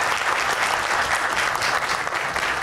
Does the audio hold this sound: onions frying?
no